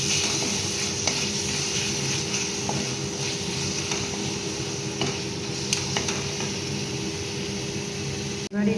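Onions fry and sizzle in a pan while being stirred with salt. A steady close sizzle carries scattered scraping clicks from the stirring and a brief clatter near the end.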